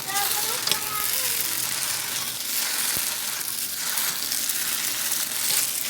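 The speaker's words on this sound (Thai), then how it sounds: "แล้วก็ผัดไฟแรงค่ะ เส้นจะได้ไม่ไม่ติดกัน" Wide rice noodles stir-fried in a wok over high heat give a steady, close sizzle with faint scraping, while a voice talks over part of it.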